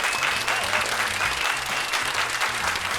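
Audience applause for a singer on a TV comedy talk show set, steady dense clapping from a studio crowd throughout, loud and continuous with no talk over it.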